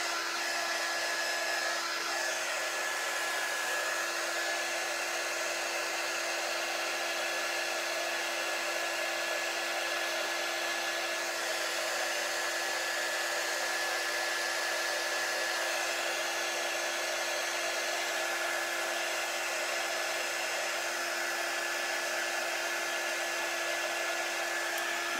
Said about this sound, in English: a heat gun, you can use that on low setting just to dry your paint